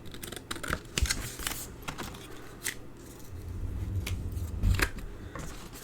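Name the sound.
non-stick scissors trimming card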